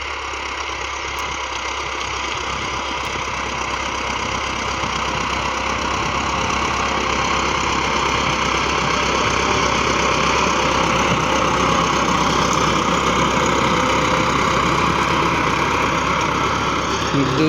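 A Massey Ferguson 375 tractor engine runs steadily at low throttle while pulling a planking leveller over a wheat field, a continuous near diesel drone with light knocking that holds level throughout.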